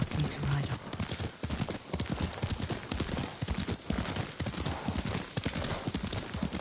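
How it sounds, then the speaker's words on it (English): Horse hooves clip-clopping at a steady rhythmic gait while riding in the video game Ghost of Tsushima, close and clear, with a brief whinny near the start and soft character dialogue mixed underneath. "Lord Sakai taught me to ride a horse."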